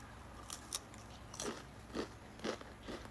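Quiet, close crunches come from biting and chewing a cookie made of thin potato crackers with peanut butter spread between them, a few crisp snaps spaced about half a second apart over soft background hiss.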